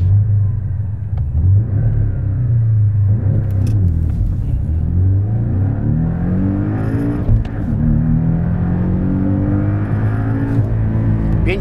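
Loud, close engine roar of a Porsche 718 Cayman with its 2.0 engine accelerating hard, pitch climbing through the revs with brief dips at gear changes, heard steadily from inside the car.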